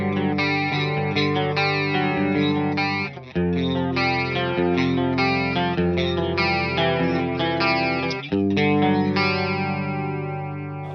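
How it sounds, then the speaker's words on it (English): Electric guitar run through a TC Electronic chorus pedal set to position 1, playing sustained chords with a shimmering chorus wash, loud and steady with only brief dips between chord changes, no talking. "So let's hear the TC Electronic on position 1."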